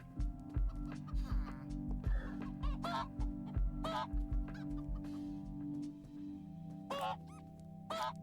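Several Minecraft chickens cluck and squawk in short bursts over a steady low electronic hum, fairly close, with no one speaking.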